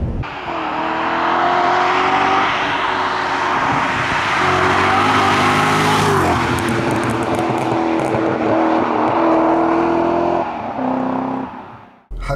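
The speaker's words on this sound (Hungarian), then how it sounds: "Hát nagyon meg tud indulni." A car accelerates hard, its engine climbing through revs in loud sustained pulls with gear-change dips, the roar staying close before cutting off at the end.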